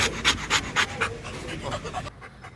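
A dog pants close by in quick, rhythmic breathy bursts that ease off toward the end, with a faint voice in the background.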